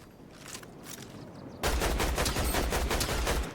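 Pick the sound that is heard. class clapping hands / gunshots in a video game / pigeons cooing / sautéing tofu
gunshots in a video game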